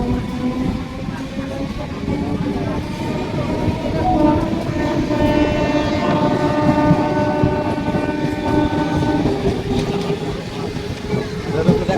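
A train horn sounds in long sustained tones over the loud, continuous rumble of a moving train.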